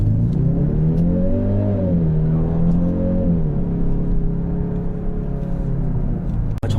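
A Genesis GV70 2.5 turbo SUV accelerates hard in sport mode, its engine note rising and falling in pitch as it pulls through the gears. The engine is loud, close and steady, with no talk over it.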